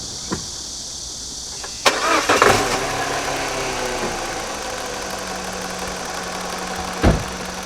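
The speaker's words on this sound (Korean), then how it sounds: "시동 한번 걸어보겠습니다" A Peugeot 207cc engine cranks and catches with a sharp roar, then settles into a steady, even idle, close and clear with no talking.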